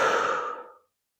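A single long breath out during a gentle neck exercise, close and soft, fading away after under a second into silence.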